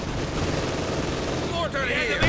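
In a Company of Heroes 2 match, a machine gun bunker fires a dense, continuous rattle of gunfire, with a few brief whistling tones toward the end.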